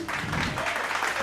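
A church congregation at a Bible study message clapping together, a brief, fairly loud burst of dense hand claps filling the room.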